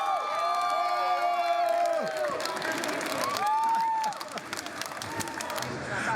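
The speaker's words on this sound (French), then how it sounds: "Tous applaudissent un style très exotique." A Chinese audience at a comedy show applauds and cheers loudly, with whoops and high shouts over continuous clapping that drops in level partway through.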